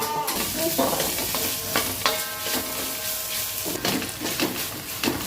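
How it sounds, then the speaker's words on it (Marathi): A vegetable mixture with masala is stirred in a hot pan, sizzling and frying continuously while a utensil scrapes and clatters in irregular strokes close by. "तर हे सर्व मिश्रण चांगलं मिक्स करायचे आहे"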